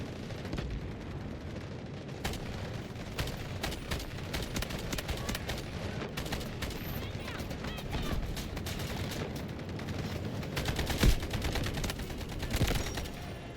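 Rapid gunfire in the shooter game Delta Force, dense bursts of shots cracking one after another over a continuous rumble of battle noise, loud and near throughout.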